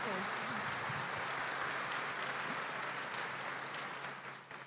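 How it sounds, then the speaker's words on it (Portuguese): Audience applause for guest speakers at a church gathering, dense clapping that holds steady and then tapers off toward the end, with voices faintly underneath. "Uma salva de palmas aí para os nossos convidados"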